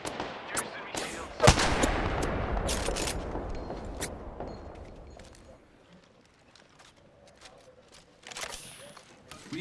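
Video game gunfire comes as a burst of loud, close shots with one sharp heavy crack, then thins into scattered distant pops and quieter rumbling, with a few more shots near the end.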